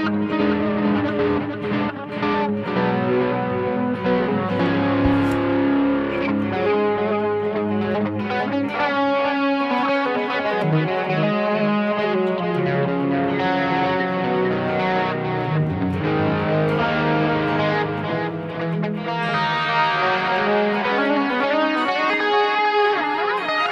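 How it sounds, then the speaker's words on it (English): An electric guitar played through a Boss eBand JS-10 with compressor, overdrive distortion, noise gate, Boss chorus, delay and reverb rings out in an 80s heavy metal tone, loud, sustained chords and lead lines with no talking. "compressor, overdrive distortion, noise gate. I have no EQ for this tone. I'm using a chorus, Boss chorus. And delay and reverb."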